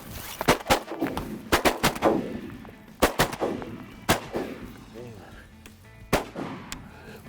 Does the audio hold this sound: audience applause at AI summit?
no